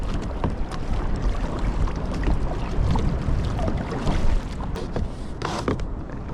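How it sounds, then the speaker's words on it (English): A small boat paddled on the sea along a remote coastline, steady splashes and water wash mixed with gusty wind noise on the microphone, close and fairly loud, with no talking. "I cannot stop paddling or I just end up drifting really fast"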